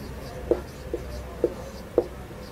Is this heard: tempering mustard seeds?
no